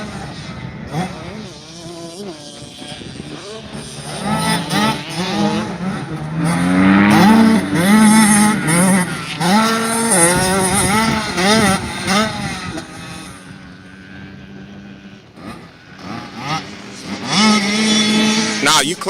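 Motocross dirt bikes lap a practice track, engines rising and falling as they rev through turns and shift, loud and close at times then fading, while someone talks over the riding.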